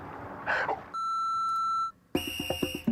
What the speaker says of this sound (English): You don't do the beep, the phone does the beep.